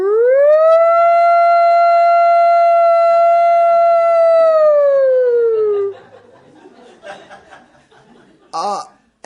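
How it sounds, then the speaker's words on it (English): A loud, sustained tsunami siren tone rises and holds for several seconds, then fades out, followed by faint talk and a brief laugh. "No, tsunami siren."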